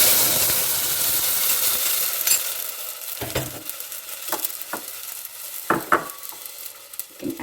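Spice paste with asafoetida and curry leaves sizzles loudly in a pan for pacha rasam, then fades into scattered scrapes and clatters of a spoon stirring against the metal.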